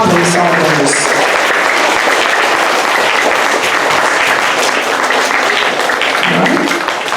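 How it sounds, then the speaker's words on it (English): An audience gives a big round of applause at a stage event as students leave, loud, sustained clapping for about seven seconds, with a voice rising near the end. "Big round of applause for our problem solvers."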